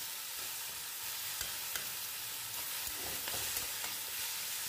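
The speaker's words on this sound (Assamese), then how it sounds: "তাৰপিছত লৰাই লৰাই কণ বিলাহীকেইটা ভাঙি দি ভাজি থাকিলোঁ।" Taro leaves and broken cherry tomatoes frying in a pan over a gas flame, with a steady sizzle under scattered scraping stir strokes from a utensil, close and moderately loud throughout.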